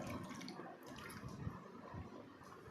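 Water pours steadily and faintly, in a soft continuous splash like liquid going into a glass for drinking, with no talk over it.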